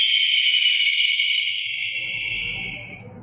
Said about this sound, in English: lastly, is an eagle.